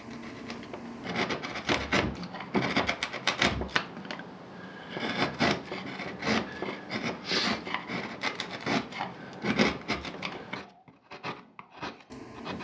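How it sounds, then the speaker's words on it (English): A hand carving gouge digs waste from wood for a low relief carving on a bookcase, giving close, quiet, irregular scraping and chipping strokes in uneven bursts, with a brief pause near the end. "I'm basically digging out the waste that's in between to make a low relief carving"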